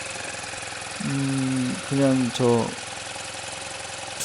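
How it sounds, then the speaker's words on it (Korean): A BMW R12 nineT motorcycle's boxer engine idles with a steady low rumble, while someone speaks briefly over it. "엔진도 켜보니까"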